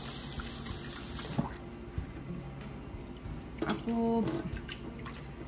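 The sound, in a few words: washing rice in water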